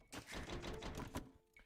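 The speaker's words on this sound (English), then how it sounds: "I can hear the typing." Quick, dense keyboard typing clatters steadily for over a second and then stops, faint and slightly distant, as if picked up over a voice chat during a 1v1 game.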